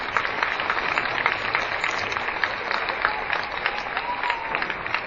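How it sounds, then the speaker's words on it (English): An audience at a veteran assembly applauds steadily, a dense, even wash of many hands clapping that carries on without pause. "please give those members a round of applause."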